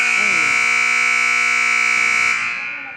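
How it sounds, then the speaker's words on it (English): A loud, sustained electronic buzzer blares steadily for nearly three seconds in a high school gymnasium during a junior varsity girls' basketball game, then trails off. "That is one loud buzzer"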